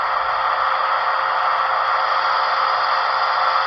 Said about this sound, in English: F11 is the air filling and air release.